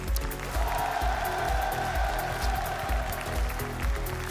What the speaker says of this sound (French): Je suis sûr que quelques applaudissements, puisqu'ils nous suivent sur les réseaux, leur feraient plaisir